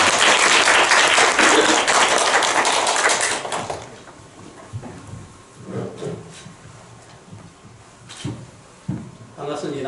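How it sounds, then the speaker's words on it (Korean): Audience applause opens a 20th-anniversary New Year seminar of the Korean-Chinese student network KCN. Loud, dense clapping from a room of people fills the first four seconds, then fades to scattered claps and shuffling as a voice speaks. "다 함께 큰 박수 부탁드립니다."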